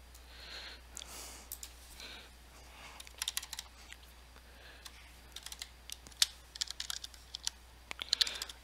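Quiet typing on a computer keyboard, light irregular key clicks in short bursts over a low steady hum, growing busier toward the end.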